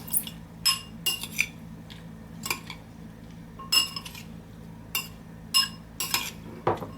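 Spoon stirring onion and cilantro salsa in a bowl, a series of separate clinks and scrapes at uneven intervals, close and fairly crisp, with no talking.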